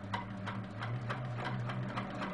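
A sewing machine runs steadily, stitching quilt border blocks with a quarter-inch seam, giving a continuous mechanical hum with a rapid, even needle rhythm, close and alone.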